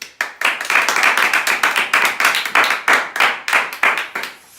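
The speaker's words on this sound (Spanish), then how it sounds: "Un aplauso para ella." Audience at a talk on teaching writing claps for a guest author, a lively burst of distinct, fairly rhythmic hand claps from a modest crowd, close and loud, tapering off at the end.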